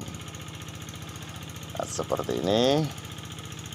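A hand tractor engine chugs while harrowing a flooded rice field, a steady low pulsing throb close by, with someone talking over it partway through.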